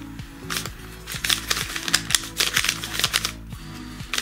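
A large YuXin 3x3 puzzle cube, a treasure-chest style box, being turned quickly while solving, giving a steady run of close, dry plastic clicks and clacks in uneven bursts with no talking.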